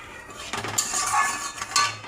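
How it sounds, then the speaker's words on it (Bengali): A utensil stirs katla fish curry with drumsticks in a metal pan, giving a few scraping, clinking strokes against the pan in irregular bursts, close and moderately quiet, with no talking. "এটা এখন নাড়াচাড়া করতে থাকবো।"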